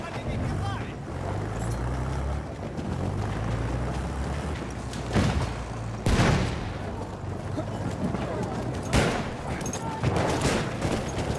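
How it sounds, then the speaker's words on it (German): Battlefield 1 battle: gunfire and loud grenade blasts crack through constant combat noise, with several sharp explosive bursts spaced across the scene. "Ich werfe eine Granate."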